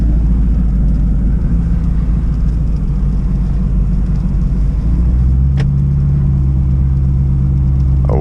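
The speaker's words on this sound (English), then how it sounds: "Let's see if the Camaro wants to do anything in the snow" Camaro SS 1LE on Continental DWS 06 tires rolls slowly through snow, its engine a loud, steady low drone from inside the cabin, rising in pitch toward the end with a brief click midway.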